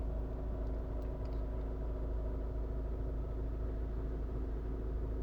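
Honda HR-V 1.6 i-DTEC diesel engine running steadily, heard as a constant low rumble with a moderate, even drone throughout.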